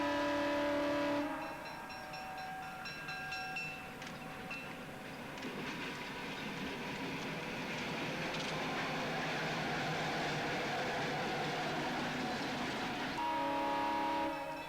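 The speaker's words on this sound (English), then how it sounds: "our train bounces around the curve and crossing" A train lurches around a curve and over a grade crossing near Portage, its steady rolling rumble and wheel clatter carrying on throughout, with a horn-like tone at the start and end.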